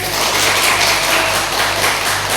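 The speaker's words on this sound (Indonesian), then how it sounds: "tepat sekali tepuk tangan" Classroom group breaking into applause during a quiz, a dense, even wash of clapping filling the whole short stretch at close range, with a low hum underneath.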